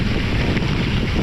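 A gravel bike rips fast down a dry wash trail in Monrovia, California, heard as a loud, steady rush of wind buffeting the microphone over a constant low rumble of the ride, with no talking.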